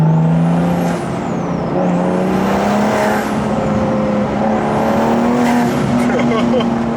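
A turbocharged N55 engine in a BMW F30 335i revs and drops off repeatedly with whooshing turbo noise, loud and continuous, a voice talking underneath.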